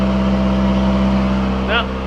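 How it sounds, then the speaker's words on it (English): Car engine idling steadily after an engine swap, a smooth low hum with even tone close by, and a brief higher squeal near the end. "This engine sounds really good. It's smooth."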